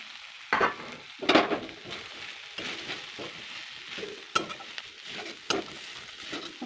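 Onion and previously fried pieces sizzle and crackle in a hot pan, stirred with sharp scraping bursts at intervals over a steady frying hiss; no talk.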